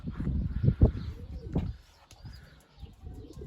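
Tumbler pigeons in a loft give low, throaty coos close to the microphone, a few bursts in the first half followed by quieter stretches, with an agitated female among them and faint rustling in the background.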